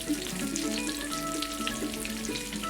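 Gluten-free southern fried chicken pieces frying in a pan, a steady close sizzle with crackling pops running through the whole stretch, fairly constant in level with no talking.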